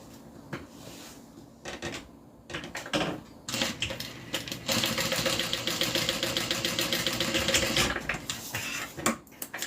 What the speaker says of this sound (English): next up is to sew a stitch down the center of this little pocket right now